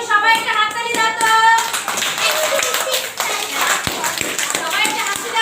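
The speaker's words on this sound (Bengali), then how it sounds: "তাহলে ওদের জন্য সবাই একটা হাততালি দাও তো।" Schoolchildren clapping hands in a classroom, a quick rhythmic burst of claps mixed with a teacher's voice and children's chatter, fairly close and lively.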